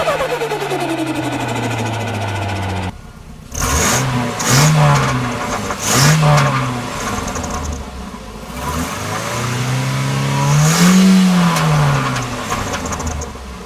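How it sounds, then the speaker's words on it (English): Car engine revving through a turbo whistler, then an actual turbo spooling, with rising and falling whooshing whistles over repeated throttle blips at close range, and no talking. "Let's quickly throw in a clip of how the whistler sound versus how an actual turbo spool"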